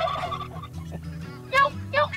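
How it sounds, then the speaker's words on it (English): Wild turkeys gobble in a mountain village in Turkey, with rapid rattling calls near the start and two louder bursts toward the end, fairly close and with no talking. "This place is crawling with turkeys."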